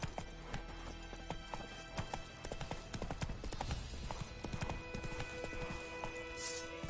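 A horse galloping in The Witcher 3 video game, its hooves pounding out a brisk, regular clip-clop close up, with faint background game sounds and no clear speech.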